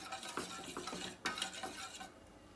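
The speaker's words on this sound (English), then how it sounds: "And we'll give it a good stir." A milk mixture thickening in a pan for Spanish leche frita is stirred with a spoon, giving soft repeated scrapes and light clinks at close range with no speech.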